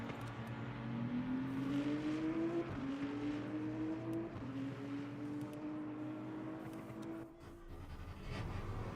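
A Porsche race car in the racing game Le Mans Ultimate drives with its engine note rising through the gears in repeated upshifts, a loud continuous rasping drone with a slight dip near the end and no talk.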